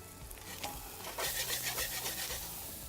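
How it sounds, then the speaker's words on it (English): Faint steady sizzling and crackling of food frying in a pan, with soft scraping sounds, continuous and low in level. "A little bit of a sizzle"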